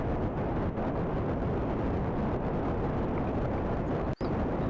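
Rocket engines roaring at full throttle in the video game Kerbal Space Program, a dense, steady, loud rumble that cuts out abruptly for an instant near the end before resuming.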